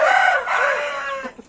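Rooster crowing loudly and close, a long drawn-out call followed by brief fowl clucks near the end, with no talking.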